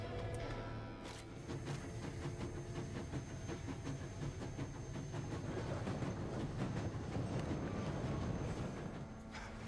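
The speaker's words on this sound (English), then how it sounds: "There's a train." In the video game Shank, a train rumbles past with a steady, dense roar and rhythmic clatter that holds for about ten seconds, fairly faint overall and with no voices.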